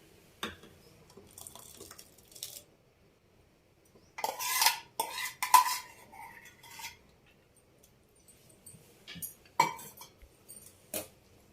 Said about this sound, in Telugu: కొంచెం అలా ఇలా చేసుకొని దీంట్లో కలుపుకుందాం